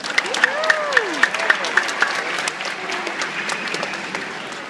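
Audience clapping at an aquarium show before beluga whales are introduced, steady applause under an announcer's voice with a series of sharp rhythmic claps or whistles early on.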